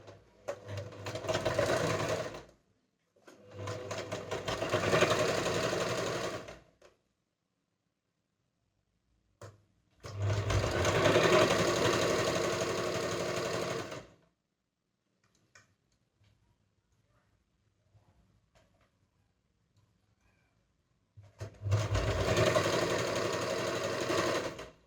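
Sewing machine stitching ladies' pants, running in three long bursts of steady rapid whirring with quiet pauses between them, close up and with no talk.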